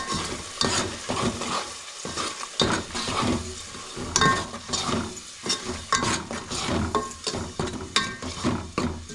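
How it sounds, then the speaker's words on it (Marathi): Ground masala for an Agri-style crab curry fries in oil, with a steady sizzle broken by repeated stirring scrapes and clinks of a spoon against the pan, close and continuous. "त्याला पण असं मस्त तेलामध्ये भाजून घ्यायचं"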